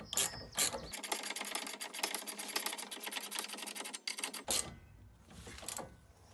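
A 16 mm socket on a ratchet tightening a rear sway bar end link on a Pontiac Grand Prix: dense, fast clicking of the pawl in steady close strokes, then a pause and a few slower clicks.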